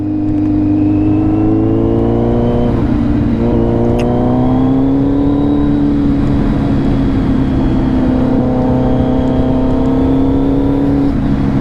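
A Kawasaki Z900 motorcycle with a LeoVince full exhaust revs steadily and continuously nearby, its deep throaty exhaust droning with slight rises in pitch and no talking.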